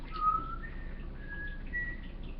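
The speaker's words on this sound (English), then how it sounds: "Do your little whistle thing." A person whistles a short tune up close, a few clear pitched notes held and gliding over a quiet background.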